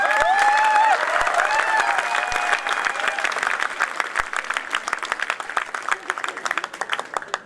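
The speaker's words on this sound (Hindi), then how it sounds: "थोड़ी सी हौसला अफजाई कर दीजिए तालियों से" A poetry-recital audience breaks into applause, dense clapping that starts full and thins toward the end, with a voice and some tonal sound briefly heard over it at the start.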